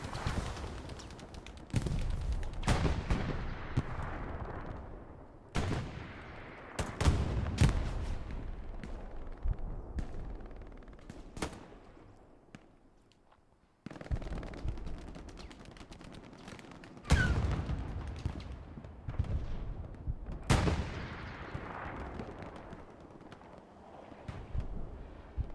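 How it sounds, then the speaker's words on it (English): Artillery strikes exploding in Hell Let Loose, several heavy booming impacts spread irregularly over time. Each one decays slowly into a rumbling background of distant battle noise. "Artillery strikes beginning to go off around Western."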